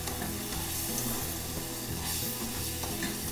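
Apple crisp ingredients, including cinnamon and salt, are stirred together in a bowl, giving a soft, steady rhythmic scraping and rustling close by with no talking.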